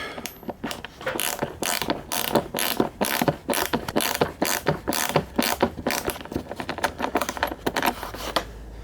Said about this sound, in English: all it is a matter of tightening up the bolt